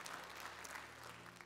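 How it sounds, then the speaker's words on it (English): Church congregation applauding after a sermon remark, a steady wash of many hands clapping at moderate distance with no talk over it. "Everybody can clap over that."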